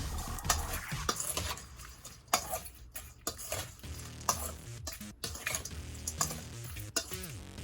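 Shrimp being stirred with garlic butter and garlic salt in a pan, utensil clicks and scrapes sounding in an irregular rhythm, nearby and moderately loud, with no talking.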